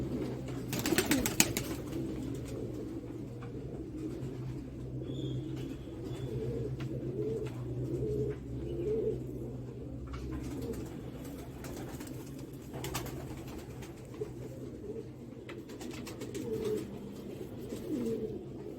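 Pigeons kept for breeding, Tonk type, coo steadily and close by in a continuous low, throaty murmur, with a few brief rustles and knocks in the background.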